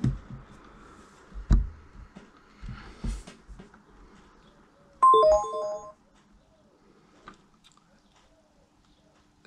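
An iPod switched to Bluetooth mode plays a short bright chime of rising electronic tones, following a few soft handling clicks and taps in a quiet room.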